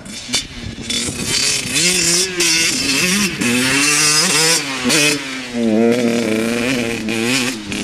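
A Kawasaki KX 85 dirt bike engine, ridden with its choke left on, revs loudly and continuously, its pitch rising and falling in repeated surges, close up.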